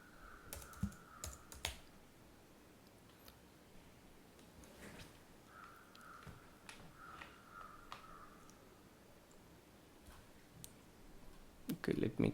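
Someone types on a computer keyboard with soft, close key clicks in short bursts and pauses, under faint talking, with louder clatter at the end.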